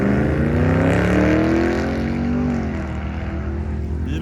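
A Ford Mustang's engine roars hard and steadily through a launch, rising in pitch then settling, loud and close throughout.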